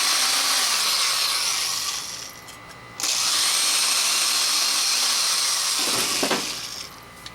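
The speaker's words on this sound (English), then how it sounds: "So I got my good old AC power drill here." An old corded AC power drill bores holes in a Napoleon gas grill using the grill's own drill bit, giving a loud, steady whining grind that pauses briefly, then resumes before winding down near the end.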